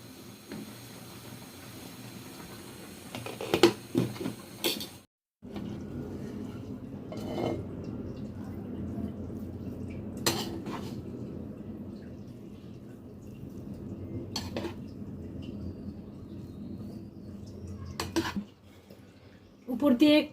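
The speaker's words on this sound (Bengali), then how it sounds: "এখন হালকা নেড়ে চেড়ে আবার ঢেকে দিব 5 মিনিটের জন্য।" Pulao rice being stirred in a cooking pot, then the lid set back over it: scattered clinks and scrapes of a utensil against metal over a steady low kitchen hiss, with a brief silent gap and sharp lid-like knocks near the end.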